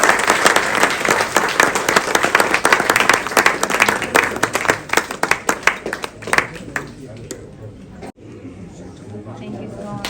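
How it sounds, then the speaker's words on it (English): Applause at a traditional Indian jewellery event, many hands clapping with distinct sharp claps standing out, loud at first, then thinning and fading out after about six seconds, with crowd chatter and voices mixed in. "Please, huge round of applause here."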